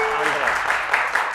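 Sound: studio audience applause

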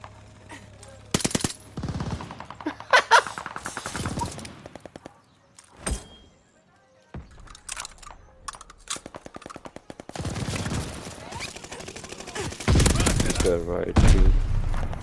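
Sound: gunfire in Call of Duty Vanguard video game

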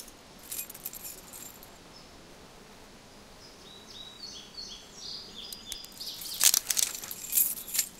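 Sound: keys jangling in The Walking Dead video game

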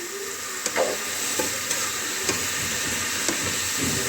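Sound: stirring potato and radish curry in oil

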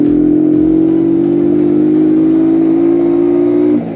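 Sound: Italika FT 125 motorcycle engine accelerating in second gear

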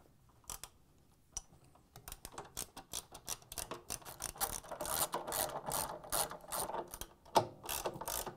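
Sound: ratchet tightening 13mm bolts on washer counterweight

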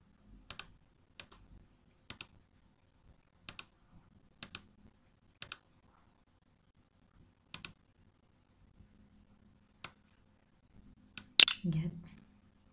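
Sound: computer mouse clicking

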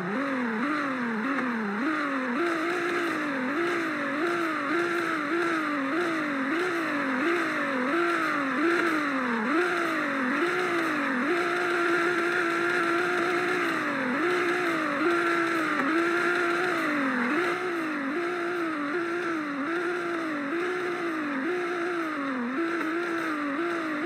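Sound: hypercar engine revving

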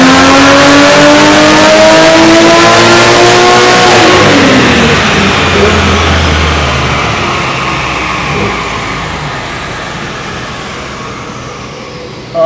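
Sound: 1JZ Toyota Cressida engine with G30-660 turbo revving on E85

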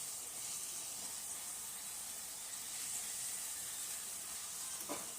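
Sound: puris deep-frying in hot oil

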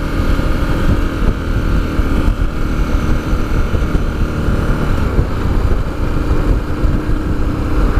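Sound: KTM 1290 Super Adventure T motorcycle riding on twisty roads

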